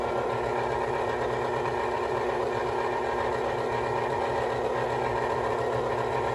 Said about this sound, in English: So we're gonna put our mixer on low.